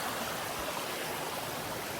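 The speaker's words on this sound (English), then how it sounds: "ran down here to the river" River water rushing steadily beside a shelter along the Appalachian Trail in New Hampshire, a dense, even broadband flow with no pauses, close and continuous.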